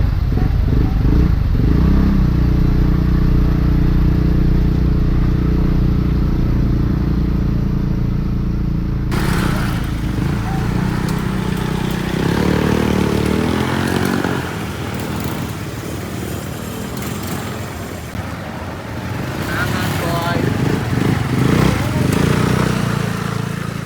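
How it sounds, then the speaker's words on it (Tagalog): A motorcycle engine idles steadily close by, a low continuous drone, then shifts to a rougher clattering rumble partway through as it moves off, with people talking over it. "Binabanan namin ang aming motor."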